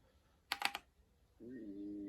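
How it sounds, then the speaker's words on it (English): A few quick keystrokes on a computer keyboard, a tight cluster of sharp clicks, followed by a short voiced sound. "I'm going to bring up the command prompt and I'm going to type in"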